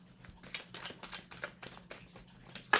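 Cards shuffled for a tarot reading, a series of soft riffling bursts in a steady rhythm, close and fairly quiet, with a slightly sharper snap at the end and no talking.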